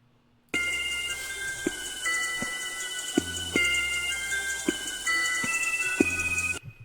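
A dry, plain synth melody with bright sustained tones stepping between notes in a steady rhythm, playing alone with no reverb or echo.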